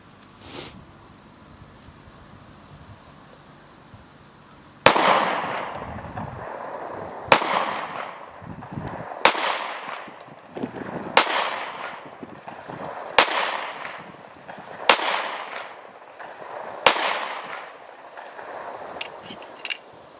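A Remington R51 pistol, prone to slide sticking, fires outdoors. Seven loud, sharp shots each ring out briefly, spaced roughly two seconds apart after a quiet start.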